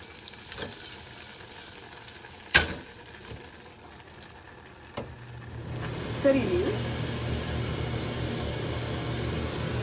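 Curry leaves hit a hot pan already holding paprika and turmeric. After a few quiet clicks and taps, a sudden steady sizzle starts halfway through and keeps frying to the end.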